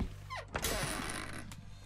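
In a horror video game, a door creaks open in one drawn-out groan, starting with a sharp mechanical click and ending with a second thud, close and alone.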